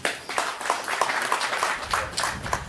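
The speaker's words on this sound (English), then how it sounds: "Can you please give him a hand of clap?" Audience hand claps for a speaker at a gathering, a fairly close, rhythmic patter of claps lasting a few seconds with little talk.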